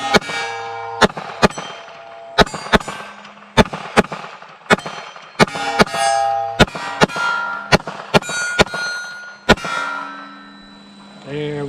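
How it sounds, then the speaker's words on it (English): A Glock 19 Gen 5 pistol loaded with a KCI USA aftermarket magazine fires at targets: about fifteen sharp, loud, close shots in an irregular string, some hits ringing with a metallic clang. "So let's go ahead and just shoot some targets."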